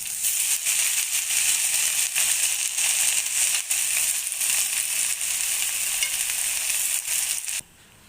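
Taro leaves fry in a hot pan with crushed garlic and green chili paste, giving a loud, continuous close-up sizzle with small crackles that stops abruptly near the end.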